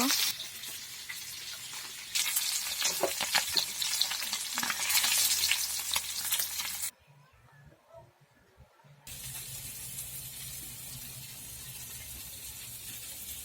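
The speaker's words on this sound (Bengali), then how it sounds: "মাছ ভাজা হয়ে গেছে, এভাবে সবগুলো ভেজে নেব" Fish frying in a pan gives a loud, steady sizzle with crackling spatters. It cuts out for about two seconds partway through, then resumes slightly quieter.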